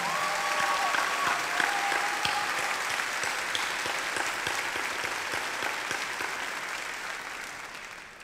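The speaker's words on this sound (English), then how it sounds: "Let's have a big round of applause for our Board of Directors." A graduation ceremony audience gives a sustained round of applause for the board of directors, dense clapping filling a large hall and slowly tapering toward the end.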